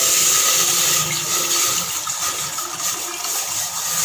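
Half a litre of water pours into a steel pot for falsa juice, making a continuous splashing rush. The sound is fairly loud and close, with a hollow metallic ring.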